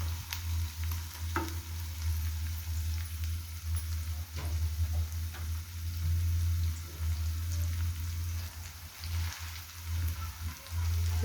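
Prawns sizzling and crackling in hot oil for a prawn and gongura curry, a continuous close fry with scattered pops and spits over a low steady hum, no voices.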